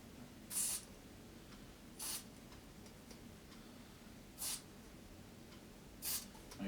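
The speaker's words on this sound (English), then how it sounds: "I'm spraying it down the channel." Short hissing bursts of contact cleaner sprayed into the switch channel of an Aiwa TPR-910 stereo cassette boombox, four separate spritzes spaced a second or two apart, close and fairly quiet.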